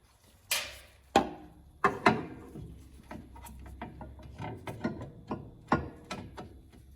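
Sharp irregular clicks and knocks of a ratchet working a sway bar bolt loose on an MK7.5 Volkswagen Golf R, close by, with a few louder metallic taps among softer clicking.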